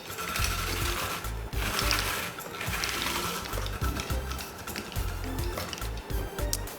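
A cone 4 spiralizer attachment cuts through cabbage with a rhythmic whirring and grinding churn. The mechanical chatter is close and fairly loud and comes in repeated pulses, with no talking.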